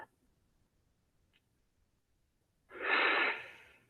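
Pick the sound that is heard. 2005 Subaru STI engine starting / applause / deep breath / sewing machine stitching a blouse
deep breath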